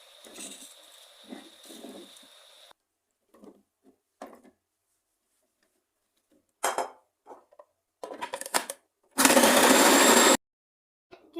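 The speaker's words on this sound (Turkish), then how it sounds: "Doğradığım limon ve portakalları rondodan geçiriyoruz." A kitchen food processor chops cut lemons and oranges, with scattered clinks and clatter of the bowl followed by a short, loud burst of whirring blades near the end.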